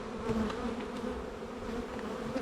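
Honey bees buzz steadily around an opened hive in spring as they bring in pollen, a dense continuous drone close by with no talking.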